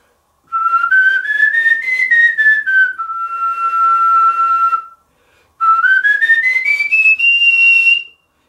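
A professional whistler whistles a clear, loud melody in two phrases, each rising smoothly through several notes, the first settling on a held tone before a short pause, with no talking.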